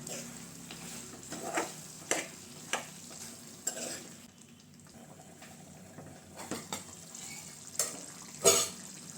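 Chicken curry stirred in a pan while it simmers: repeated scraping spoon strokes at an irregular pace over a soft, steady sizzle, close and clear.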